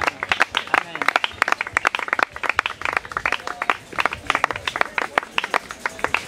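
Congregation applauding during a church service, dense rapid clapping from many hands close by, continuous and rhythmic, with voices calling out over it.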